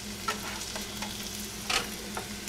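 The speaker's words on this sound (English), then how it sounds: "I've been stirring the chicken here as we're frying it up." Chicken sizzles steadily as it fries in a wok, with a few scraping stirs of a utensil cutting through the constant crackle, close and moderately loud, no voices.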